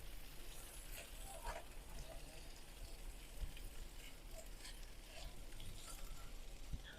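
Breakfast potatoes with ham, bacon and sausage frying in a pan, a faint, soft sizzle with scattered light pops and occasional utensil scrapes, quiet and close.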